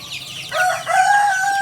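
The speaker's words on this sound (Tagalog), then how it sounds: "Gutom na po ang ating mga chicken." Chickens cluck and a rooster lets out a loud, drawn-out crow close by, the calls rising sharply after a quieter stretch of soft clucking.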